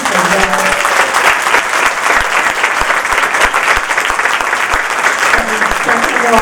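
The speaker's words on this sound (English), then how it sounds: "let's give them a round of applause" Audience applause for a panel at a team presentation event, loud, continuous clapping from a crowd, with faint voices mixed in.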